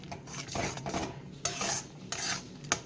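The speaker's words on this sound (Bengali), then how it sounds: "ভালো করে মশলাটাকে আমি কষিয়ে নেব যতক্ষণ না মশলা থেকে তেল যাচ্ছে" A spoon stirs a masala spiced with cumin and coriander powder in a pan, scraping in irregular strokes while the mixture sizzles and fries underneath, close and fairly quiet.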